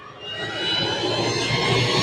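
A car engine sounding like a jet fighter whines with a rising, sustained high-pitched tone over a deep roar, growing louder and holding steady, with no talking over it.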